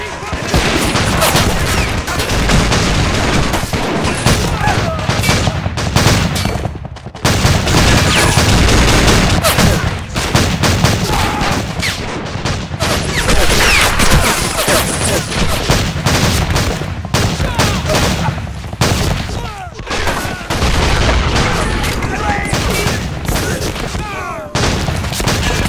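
Dense, continuous gunfire and explosions from a large battle in a war video game, loud and sustained throughout with rapid overlapping shots and heavy booms, with shouted commands mixed into the din.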